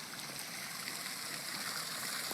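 A tiny creek flows down off the mountain at Bhumi Farm in the Venables Valley, making a steady, even rush of water close by with no pauses.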